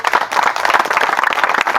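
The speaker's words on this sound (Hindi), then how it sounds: "ताली बजा देंगे इन लोग के लिए।" A church congregation claps for a group of people, a dense burst of many hands clapping with an even, lively rhythm that runs the whole time, close and loud.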